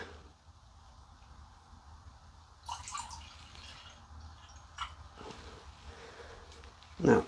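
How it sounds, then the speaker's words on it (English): Cherry melomel poured straight out of a glass fermentation jar, a soft steady trickle and gurgle with splashier bursts toward the end, heard close and fairly quiet. "I'm just going to pour it, oh my god, straight out of this fermentation jar"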